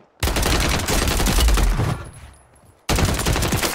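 Loud, dense automatic gunfire from Call of Duty Warzone rattles in sustained bursts, dips briefly to quieter shots, then cuts back in at full volume.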